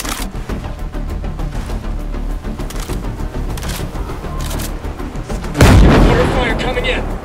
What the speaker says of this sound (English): Mortar fire coming in.